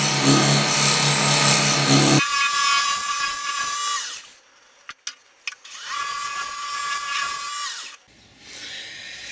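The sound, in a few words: sanding the bottom of a wooden piece on a lathe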